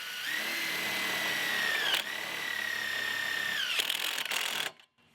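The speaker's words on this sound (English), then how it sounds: "we just use self-tapping screws, and I'm just going to attach each of these directly to these poles" A power drill runs long, steady whining bursts as it drives self-tapping screws into metal greenhouse frame poles. Loud and close, with a brief dip between screws and a sharp stop at the end.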